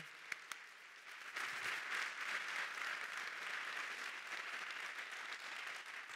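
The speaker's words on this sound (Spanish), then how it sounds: "Demos un aplauso." A church congregation at Sunday school claps together after a couple of sharp early claps, the applause building into a steady, moderately distant wash of many hands that continues to the end.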